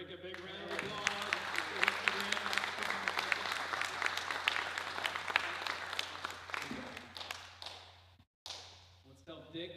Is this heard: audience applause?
yes